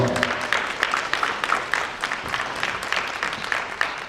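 A school audience applauding a high school coach at a college signing day event, steady dense clapping throughout with a few brighter accents and faint voices underneath.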